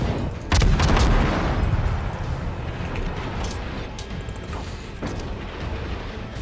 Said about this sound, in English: you can actually do some pretty devastating damage with these rapid fire guns